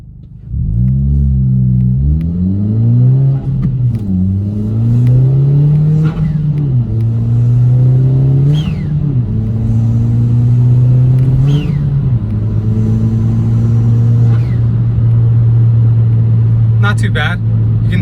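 A 2020 Kia Forte GT with its muffler and resonator deleted drones loudly inside the closed cabin, engine note climbing through several accelerations and shifts, with blow-off valve chirps.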